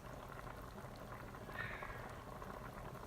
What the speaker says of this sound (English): I need to bring this down just a little bit more, just to simmer it a bit more, rather than hard boil.